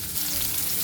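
Chicken curry ingredients fry in a hot pan, a steady close sizzle with faint stirring that holds evenly through the brief moment, no voices.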